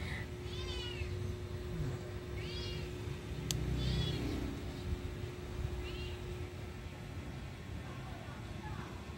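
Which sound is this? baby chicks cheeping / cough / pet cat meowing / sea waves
pet cat meowing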